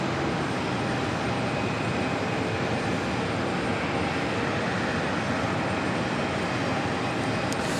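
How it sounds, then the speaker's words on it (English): An ITA Airways Airbus A330 heading to Rome from JFK on the south side produces a steady, broad engine roar at moderate distance, unbroken and constant throughout with no voices. "ITA heading to Rome, A330. On the south side."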